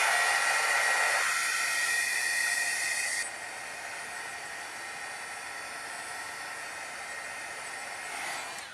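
A hair dryer blows a steady broadband hiss over a damp watercolour painting of a zinnia seed packet, louder at first, then dropping to a lower, softer setting that continues evenly until it winds down near the end.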